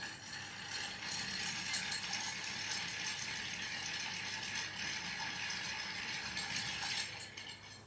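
Ice stirred in a cocktail mixing glass about two-thirds full of ice, for a Mojito or Rusty Nail: a steady, continuous rattling clatter of cubes against glass lasting about seven seconds, close and alone, easing off at the end.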